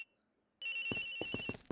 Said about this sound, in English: The ringing's coming from in here